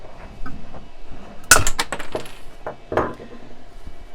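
A plastic PSA or BGS graded card slab being cracked open under a folded paper towel gives a sharp snapping crack with scattered clicks, then a smaller crack follows about a second and a half later, all close up.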